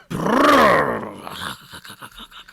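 A voice imitates a failing engine with a rising, then falling strained groan, which breaks into a few sputtering, choppy bursts before fading out.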